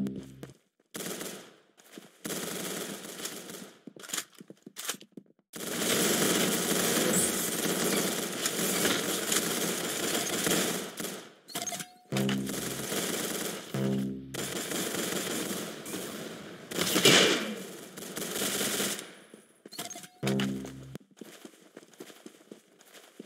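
Rapid gunfire in long, loud bursts of fast shots, broken by short pauses and a few isolated single rounds.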